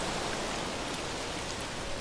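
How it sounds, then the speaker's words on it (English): Autumn rain in Forza Horizon 4, a steady, dense hiss of rainfall on surfaces that stays even and continuous throughout, with no voices. "looks like autumn is gonna be pretty rainy"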